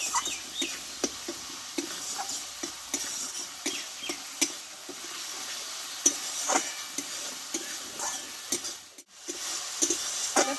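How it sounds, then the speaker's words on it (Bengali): Spice masala for a spinach dish frying in oil, a constant bright sizzle with scattered scraping stirs and small clinks over about ten seconds, near and moderate, with no speech. "দেখো মশলাটা আমার কষা হয়ে এসছে"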